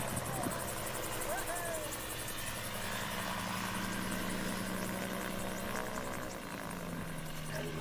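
A gyroplane's spinning rotors and engine drone steadily as the aircraft sets up for a low-speed landing, a continuous moderately distant hum with faint background voices.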